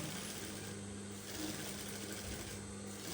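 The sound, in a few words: sewing machine stitching a dress seam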